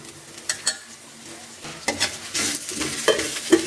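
Drumstick leaves, onion and tamarind are sautéed in a pan, with intermittent stirring scrapes and clatters over a soft sizzle that grows busier toward the end, no voices present.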